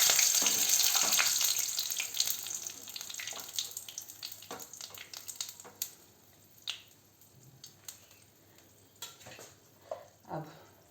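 Chillies and tomato fry in a pan for black chana masala, a bright sizzle that is loud at first and fades, with intermittent stirring scrapes and splats.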